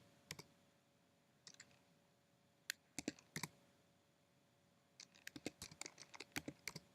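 Bursts of keystrokes on a computer keyboard, quiet and close, with a short flurry near the start, a few isolated taps in the middle, then a steadier run of rapid typing toward the end; no voices.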